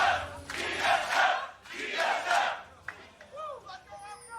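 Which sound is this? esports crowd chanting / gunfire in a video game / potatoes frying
esports crowd chanting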